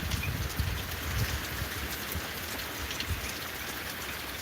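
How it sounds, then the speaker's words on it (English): Steady rain patters on a surface at a dog and cat farm, a dense, even hiss of drops with no voices, moderately close and fairly soft. "It's raining."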